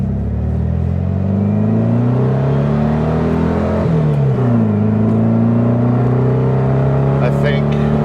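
A Volkswagen Beetle with a rebuilt motor runs steadily, its air-cooled engine droning loud and close with a slight rise and fall in revs throughout.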